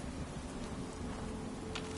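Steady rain in the video game Fallout 76, a dense, even wash of patter with a low rumbling bed underneath and no talking.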